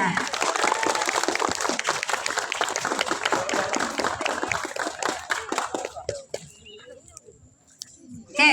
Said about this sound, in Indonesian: Tepuk tangan untuk Nurhuda.